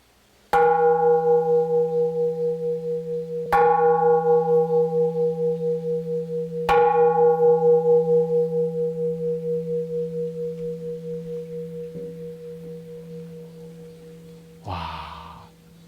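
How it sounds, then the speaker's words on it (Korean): A large temple bell, the Bell of Hope, struck three times at steady intervals, each deep resonant strike ringing with a long humming decay that slowly fades, followed by a brief knock. "여기서 종을 3번을 치시면은 소원이 이루어지실 겁니다"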